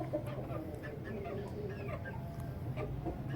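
Shamo chickens clucking and calling close by, with short squawks scattered over a steady farmyard background and faint voices.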